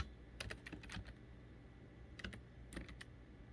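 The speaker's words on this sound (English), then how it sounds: "I'm going to type in the ISBN number." Quiet computer keyboard typing as an ISBN number is entered into a book-tracking site, with short clusters of quick keystrokes separated by pauses, close and soft over a low hum.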